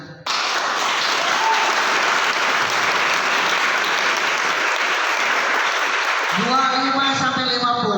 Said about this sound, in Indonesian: Wah, tepuk tangan nih.